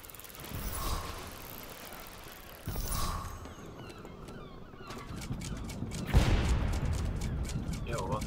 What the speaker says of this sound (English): what the fuck are they shooting?